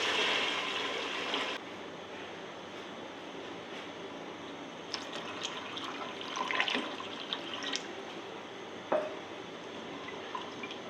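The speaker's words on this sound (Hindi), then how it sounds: "अभी इसमें पानी डालूंगी मैं" Steady running water pours into a pan of roasted chana dal for several seconds, a continuous splashing hiss with a few small clinks and drips near the end.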